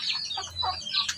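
A chicken of a large breed raised by a Filipino keeper clucks in a run of short, nearby calls over about a second, with no voices over it.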